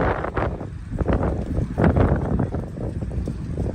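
Strong gusty wind whipping outdoors beside a bank in Miami, buffeting the microphone in loud, uneven rushes with no speech.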